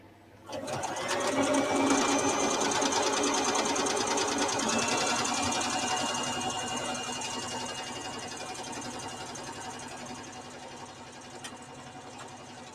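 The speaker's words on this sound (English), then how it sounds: "if you're going to make these on a sewing machine, please do not forget to backstitch" Sewing machine stitching fabric in a continuous, close whirring run that starts abruptly, holds steady for several seconds, then gradually slows and softens toward the end.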